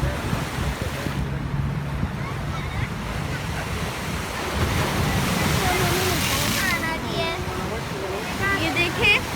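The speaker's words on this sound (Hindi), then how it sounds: "माय गुडनेस, बहुत ही बड़ी लहर थी।" Large sea waves surge and break along the Jeddah coast, a loud, continuous roar of surf and rushing water with wind buffeting the microphone, and people talking over it.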